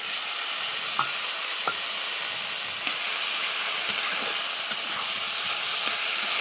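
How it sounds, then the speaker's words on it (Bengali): Ground banana flower paste sizzles steadily in a pan with fried ridge gourd, potato and bay leaf, as a utensil gives a few sharp scraping clicks through the stir. "কিছুক্ষণ এইভাবে ভেজে নিতে হবে।"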